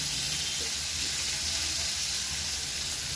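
Drumstick, brinjal and potato pieces frying in oil for a Tamil poriyal, giving a steady, dense sizzle that carries on without a break.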